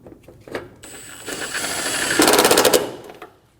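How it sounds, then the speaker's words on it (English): Ratchet driving the three 10 mm headlight bolts on a 2008-2015 Scion xB: a close run of rapid clicking builds into a loud, fast burst of ratcheting, then stops, with no talk. "Install the 3 10mm bolts for the headlight."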